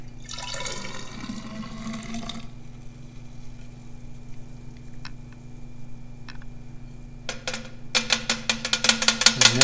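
Distilled water pours into a graduated cylinder in a soil lab, filling toward the 1,000 millilitre mark, with a steady splash at first, a quieter stretch with a few faint drips, then rapid clicking and pouring bursts near the end.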